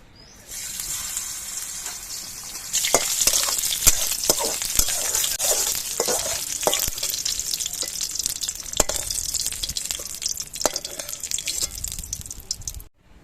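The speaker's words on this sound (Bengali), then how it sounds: "কিছু কিশমিশও ভেজে নিচ্ছি।" Steady, close sizzling of raisins frying in hot oil, with occasional sharp clicks and scrapes of stirring; no voices.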